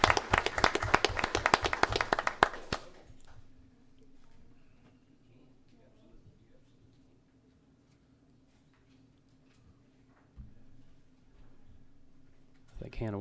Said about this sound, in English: let's give these students a round of applause for their representation